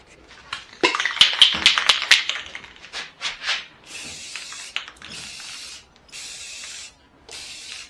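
An aerosol can of Rust-Oleum semi-gloss clear top coat rattles and clicks, then sprays onto furniture in several bursts of hissing, each lasting about a second with short pauses between.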